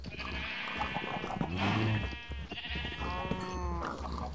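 Sheep bleating in the Minecraft video game, several drawn-out wavering cries overlapping one another against continuous game background noise, fairly loud and close.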